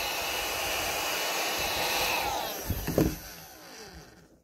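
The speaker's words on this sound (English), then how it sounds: "So you just take the hairdryer, you heat up the label." Hair dryer blowing hot air to heat a label, a steady rushing whir with some handling bumps near the end before it cuts off.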